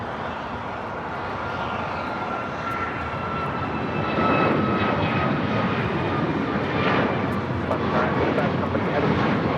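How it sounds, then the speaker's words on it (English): An Alaska Airlines Boeing 737 MAX 9 takes off at LAX, its jet engines roaring loudly and swelling midway into a sustained broadband roar, with faint background chatter. "This is Alaska Airlines 935 taking off to Fort Lauderdale on the MAX 9."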